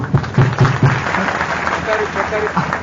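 A church prayer-meeting congregation claps hands in a short burst of several claps at the start, then a preacher's voice carries on speaking over a quieter room.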